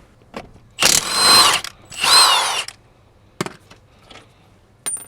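A Ryobi power tool undoes a 21mm nut with a socket, giving two loud, close whirring bursts of about a second each, followed by a few sharp clanks.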